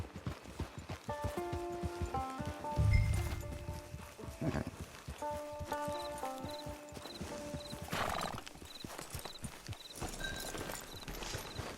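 Horse hooves clip-clop steadily at an Old West camp, with a loud whinny partway through, all set against soft background music.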